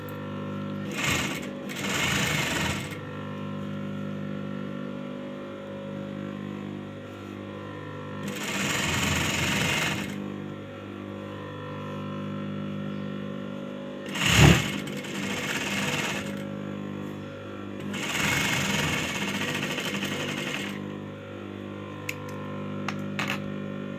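A sewing machine stitches a folded hem on an A-line shirt, running in four separate bursts of rapid mechanical whirring with pauses between, close and clear over a low steady hum.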